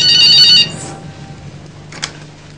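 A telephone rings loudly with a bright electronic trill for about half a second, then cuts off and leaves quiet room tone with a faint click afterward.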